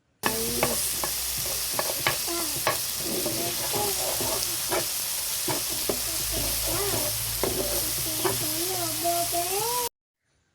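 Pasta ingredients stirred and fried in a pan, with a steady sizzle throughout and repeated scraping and clattering strokes of the spoon against the pan, close and continuous.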